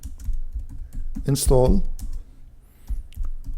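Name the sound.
typing commands on a computer keyboard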